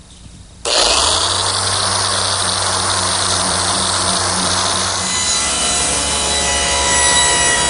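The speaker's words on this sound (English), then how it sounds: "Now I've switched to my random orbit sander. I'm starting with an 80 grit" A random orbit sander with 80 grit paper working over a wooden butcher block: the motor kicks on abruptly, then a loud, steady abrasive whir with a low hum persists, its tone shifting slightly midway, close up and without speech.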